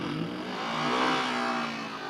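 A car engine revs as the vehicle pulls away with clutch control, a steady mid-pitched drone rising slightly in the middle, heard from inside and fairly loud.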